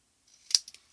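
Scissors snip through tape while a giant twist-and-pop paper folio album is being made, heard as one sharp close cut followed by two quicker, fainter snips in quiet surroundings.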